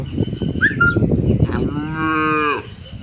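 A freshly calved Holstein Friesian dairy cow lets out a long, loud mooing call nearby, the lowing holding steady before tapering off, with no talk over it.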